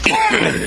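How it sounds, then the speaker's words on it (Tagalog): A single short, harsh cough, loud and close, alone with no talk. "inuubo ka na naman"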